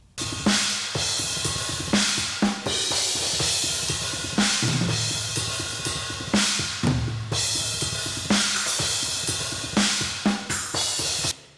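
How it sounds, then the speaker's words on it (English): Drums in a metal mix heard through overhead microphones, bright cymbals washing steadily over punchy kick and snare hits in a busy, continuous groove. "A pretty balanced and nice sounding overhead track that covers a lot of the cymbals that he plays."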